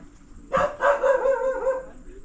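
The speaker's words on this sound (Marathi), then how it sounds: "त्यांचा पण एक लॅब्राडॉर जातीचा कुत्रा आहे" A Labrador's single drawn-out bark or yowl, fairly close and loud, trailing off after about a second and a half.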